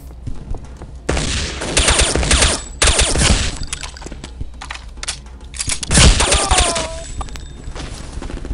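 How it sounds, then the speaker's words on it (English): Dense bursts of rapid gunfire in the video game Counter-Strike: Condition Zero crackle and pop in waves, loud and continuous, with a few sharper shots standing out. "Why am I hearing all kinds of gunshots?"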